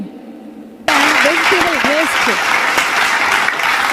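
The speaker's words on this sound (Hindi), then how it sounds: "जोरदार तालियां हम सब की।" A crowd bursts into loud applause at the foundation-stone ceremony for the Medha Dairy milk powder plant in Hotwar, Ranchi. After a quieter opening the clapping stays sustained, with a voice speaking over it.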